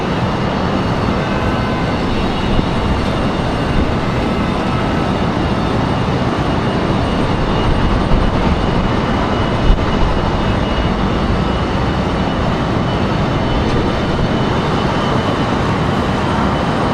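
A Frontier airliner moving at Raleigh-Durham International Airport gives a steady, loud, broadband engine roar that holds unchanged throughout, with no voices over it.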